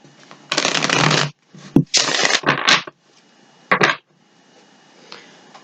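Tarot cards are shuffled in several close, loud riffling bursts separated by brief pauses and a few sharp taps, with no speech.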